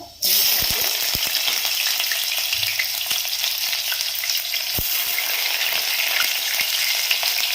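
Fenugreek seeds sizzle steadily in hot oil at the start of a fish curry, with a continuous bright crackle close by and a few soft stirring knocks, no talking.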